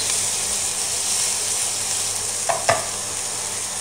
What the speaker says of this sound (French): mes boulettes dans l'huile histoire qu'elles forment une croûte pour que ça évite qu'elles s'ouvrent pendant la cuisson